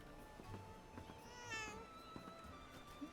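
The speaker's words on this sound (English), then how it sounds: "Cracks me up when you run by the cats. They're like, meow." A cat meows in the video game Heart of a Hobbit during a midsummer festival, one clear close meow over soft ambient game music.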